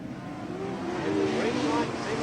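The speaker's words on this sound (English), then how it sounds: "Scott McPherson and Lenny Edwards lead the charge of cars into turn 1-2." Super Sedan race cars at Newcastle rev and accelerate together off the start in 1993, a dense, rising engine roar from a distance under a steady broadband din.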